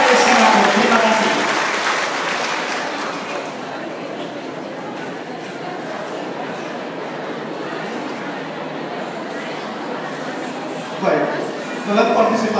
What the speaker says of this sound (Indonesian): Sekali lagi kita berikan aplaus yang sangat meriah kepada HKBP Singapura.